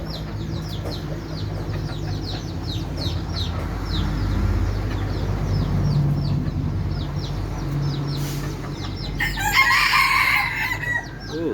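A wild rooster crows outdoors, its calls repeating at a moderate distance over a dense background of other birds, with some clucking and a louder burst of nearby chatter toward the end.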